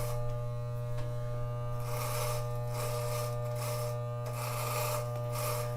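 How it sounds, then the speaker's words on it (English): An electric hair clipper buzzes steadily while shaving the sides of a head for a DIY mohawk fade, a constant close electric hum with brief rasping swells as the blades pass through hair. "when I shave the sides like this"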